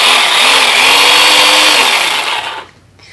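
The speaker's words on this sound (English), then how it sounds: "we've got a 10-foot chainsaw here" Ryobi electric pole chainsaw running loud and close with a steady high whine, then winding down and cutting off near the end.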